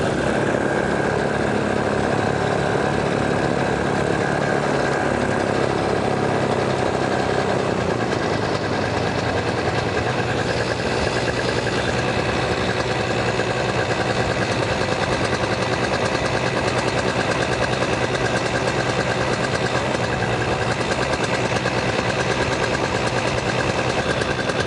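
A paramotor engine running on the ground at a farm field in Pennsylvania, a steady loud buzzing drone with rattling vibration that holds for the whole stretch without a break.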